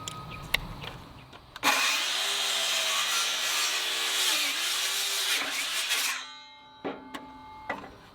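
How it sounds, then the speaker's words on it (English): A saw cuts through a wooden 4x4 post: a loud, steady, grinding cut runs for about four and a half seconds, then winds down, followed by a few scattered wooden knocks and handling sounds. "I think I'll just cut these 4x4s for the bottom to 32 inches."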